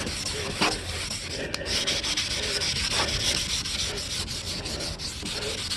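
A green scrub pad rasps back and forth over a plastic car headlight lens, a close, steady, gritty scrubbing hiss with rhythmic strokes and no talking.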